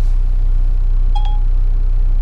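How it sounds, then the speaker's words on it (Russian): Through a car's hands-free speakerphone, a short pair of electronic call tones sounds loudly over a constant low engine hum while a phone call to an iPhone is being placed. "Звоню Сашок на айфон по громкой связи"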